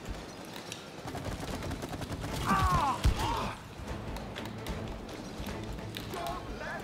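Gunfire in the video game It Takes Two during a fight against a wasp queen, with quick bursts of shots and mechanical clatter peaking midway, fairly faint under game effects.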